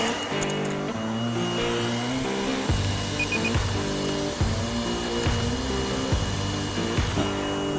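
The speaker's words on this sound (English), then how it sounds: "Let's see how long it will run on this blower. Turned on high." A battery-powered leaf blower running on its high setting, giving a steady, loud motor whir and whine that holds without a break throughout.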